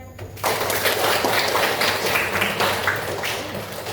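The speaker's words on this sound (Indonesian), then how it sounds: "tepuk tangan berarti fokus bagian" A class of students claps hands together in a classroom. The dense, steady clapping starts after a brief pause and carries on loudly throughout, with no talk over it.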